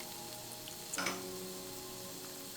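Minced garlic, ginger and spices sauté in an Instant Pot, giving a faint, steady sizzle that briefly crackles louder as the ingredients land.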